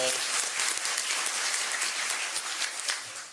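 An audience at a mayor's state of the city address claps for a volunteer organizer, a dense, even patter of many hands sustained throughout at a fairly quiet, slightly distant level.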